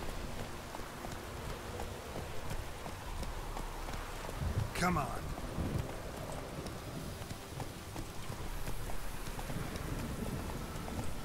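Roach, Geralt's horse in The Witcher 3, gallops with steady hoofbeats under a rain-like game ambience, while a player's voice urges it on over the top.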